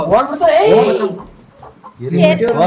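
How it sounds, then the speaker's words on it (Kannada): A native country chicken from Mandya clucks loudly and close by in short bursts, while people talk over and around it. "ನಾಟಿ ಕೋಳಿ ಮಂಡ್ಯದಿಂದ ಬಂದಿರೋದು"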